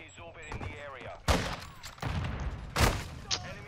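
Two loud shotgun blasts in Call of Duty Modern Warfare 2, about a second and a half apart, punching through lively gamer chatter between them.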